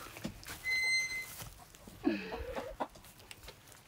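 Chickens cluck and squawk close by in short, uneven calls, with a brief high tone earlier and faint background noise.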